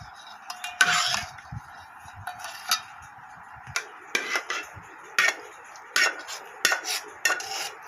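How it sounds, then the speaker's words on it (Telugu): A spoon mixes tamarind seasoning with asafoetida into rice for pulihora in a metal vessel, giving a run of sharp, irregular clinks and scrapes up close, with no talking. "ఇప్పుడైతే రైస్లో ఇదంతా కలుపుకుందాం."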